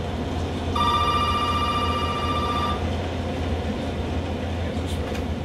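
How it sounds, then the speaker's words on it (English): An old-fashioned telephone bell rings in Resident Evil 7, one sustained electronic ring of about two seconds over a steady low background hum. "The phone is ringing."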